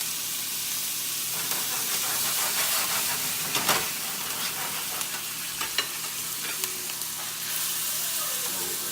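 Steak frying in butter with a few pieces of fat and garlic in the pan gives a steady, loud sizzle and hiss with scattered pops and crackles, no talking.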